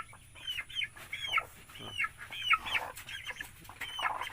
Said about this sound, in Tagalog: Nagmiso ng iyang mga manok ni Johnny.